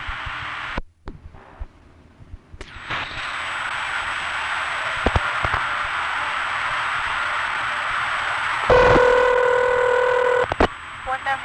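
A number dialed on a 1973 crossbar telephone line, heard as a short series of clicks and tones over line hiss, followed by a steady dial-tone-like hum and a brief burst of tones.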